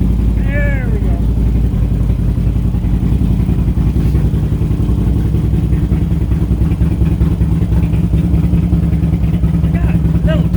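A Harley-Davidson motorcycle engine runs with a steady, loud low-pitched rumble and clatter throughout, while someone talks over it.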